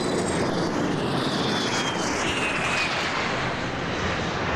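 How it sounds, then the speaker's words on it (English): An Aero L-39 Albatros jet trailing smoke makes a low pass at an air show, its loud, steady engine roar filling the whole stretch with broad rushing noise and no voices. "gets the L-39 right down in there low, hits that smoke trail"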